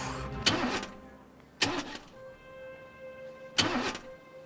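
A car engine cranking but failing to start, three separate churning attempts with pauses between them, fairly close and with no talk over it.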